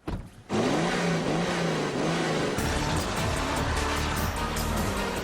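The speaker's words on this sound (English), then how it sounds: "my foot's welded to the floor here, and as you can see, the petrol car has roared off to an early lead" A petrol BMW 535i accelerates hard at full throttle, its engine note rising steadily and loud with clear gear-change breaks, heard alone without talk.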